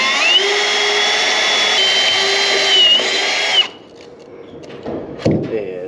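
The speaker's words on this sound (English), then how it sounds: "we'll get the back ones drilled out, because that's what bit I have right now" Power drill boring holes for a baler moisture meter install, a steady high whine running about three and a half seconds, then stopping, followed by a few clunks and handling knocks.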